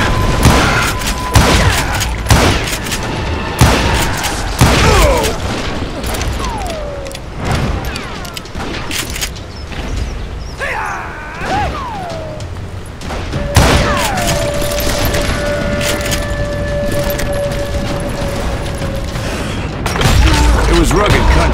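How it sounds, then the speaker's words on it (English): Gunfire shootout in Call of Juarez: Gunslinger, set in rugged Chiricahua winter country: repeated sharp shots and booming thuds burst through the first seconds and again near the end, with a narrating voice speaking between volleys. "But now that the shooting had started,"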